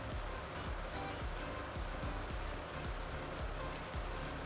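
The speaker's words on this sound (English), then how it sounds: "The rain's doing a pretty good job." Steady rain falling in Farming Simulator 19, a continuous dense patter close by with soft repeated low thumps beneath it and no talking.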